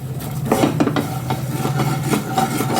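Fried corn kernels with chili powder being stirred in a hot pan, a steady run of scraping and clinking of a spoon against metal over a light sizzle, close and continuous.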